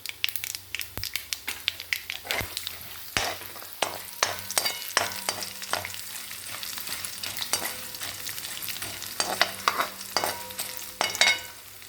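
Urad dal and chana dal sizzling in hot oil in a pan with asafoetida for pulikaichal, a continuous crackling fry punctuated by sharp scraping stirs and clinks of a spoon, close and alone.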